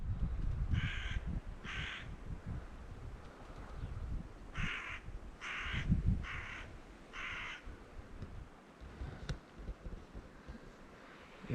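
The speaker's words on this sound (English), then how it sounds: "Check out the crows, there's crows going wild up here as well." Crows caw in a remote Scottish glen, a pair of harsh calls followed after a pause by a run of four, over wind rumbling against the microphone.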